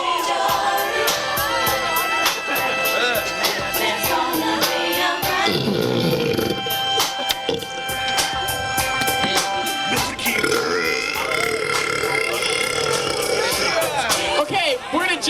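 Burping from high school students competing in a burping contest, loud drawn-out belches mixed with crowd cheering and shouting throughout, with background music-like tonal noise.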